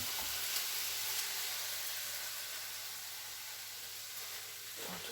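Chicken meat frying in a pan for tacos, a steady loud sizzling hiss close up, continuous throughout with no talk.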